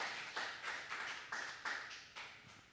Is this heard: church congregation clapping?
yes